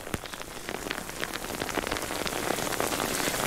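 Steady rain patters and drums on nearby surfaces at a Billy Goat Bluff race track in January, a dense, close hiss of drops that grows slightly louder throughout, with no voices.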